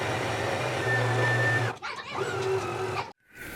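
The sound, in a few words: sewing machine stitching a jacket sleeve seam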